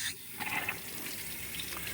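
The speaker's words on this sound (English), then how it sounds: "the first thing you do is come over and turn the water on at this valve." Water rushes steadily from an opened valve to flush an older outboard motor being winterized, a constant close hiss and splash with a slight surge near the start.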